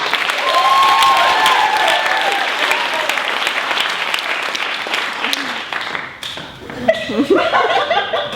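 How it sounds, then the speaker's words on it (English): An audience at a live comedy show breaks into applause that starts strong, gradually thins and fades, then brief chuckles and a voice come through near the end. "after a grateful round of applause"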